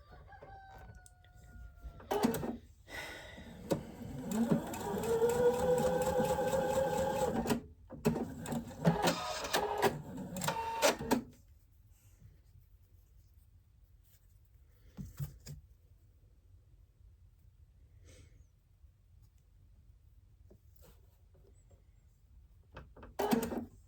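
A domestic sewing machine stitching pieces of a quilt block, with bursts of rapid mechanical whirring and stops between runs, followed by quieter handling sounds in a room.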